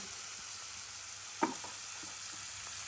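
Mustard seeds splutter and onions fry in oil for a prawn thokku, a quiet steady sizzle with one sharp pop or clink partway through and a few soft stirring sounds.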